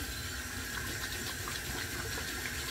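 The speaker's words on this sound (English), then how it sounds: "We're going to take a little water," Water running steadily from a tap to fill a shaving bowl, a continuous close gushing hiss with no talk.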